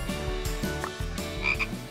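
Cartoon frog croaking in a rhythmic series of deep, resonant croaks, about five close, loud pulses in quick succession with a short squeak near the end, and no talk.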